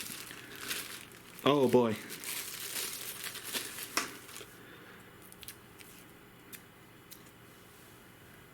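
Crinkly plastic packaging of a GPU anti-sag bracket being torn and crumpled open, a loud burst early on followed by softer rustling and scattered small clicks, with a brief spoken remark.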